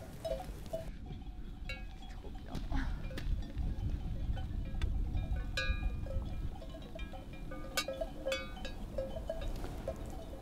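A flock of ewes grazes in a pasture, with bells clinking and clanking irregularly close by over a steady background rumble, with a few faint bleats.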